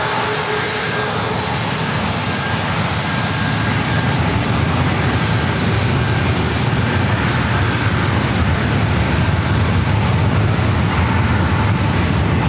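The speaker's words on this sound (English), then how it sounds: "Southwest flight heading to Denver." A Southwest airliner takes off at San Diego airport. Loud, steady jet engine roar fills the whole stretch, broad and close, with no voices.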